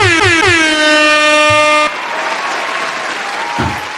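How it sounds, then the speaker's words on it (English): Loud air horn sound effect blasting in a rapid burst of short toots followed by a long sustained wail, then cutting off abruptly into quieter background noise. "where my air horns at?"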